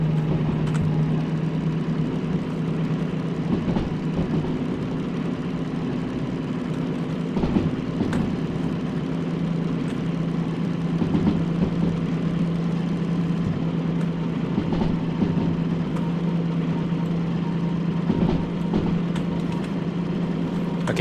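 A DM3 diesel locomotive engine runs steadily in the Derail Valley railway game, a continuous low droning rumble with a constant hum and occasional faint clunks, heard close and alone.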